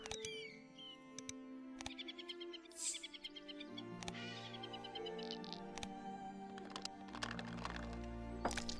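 A chiffchaff's call sounds in the digital board game Wingspan, a short series of bright chirps over soft background game music with a few faint clicks.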